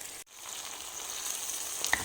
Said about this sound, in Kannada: ಇವಾಗ ಈ ಮಸಾಲೆ ಹಾಕಿರೋ ಬದನೆಕಾಯಿನ ಹಾಕ್ಕೊತಾ ಇದ್ದೀನಿ.